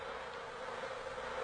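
Honeybees buzz around their hive, a continuous, even drone of many wings heard close and alone, without any talking.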